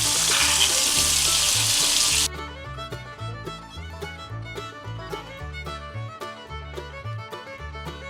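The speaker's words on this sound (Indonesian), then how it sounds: "Lalu masukkan tempe yang kita hancurkan tadi." Crumbled tempeh fries in a pan for stir-fried water spinach, a loud steady sizzle for the first two seconds, then settling into a quieter crackle over a repeating low rumble of music.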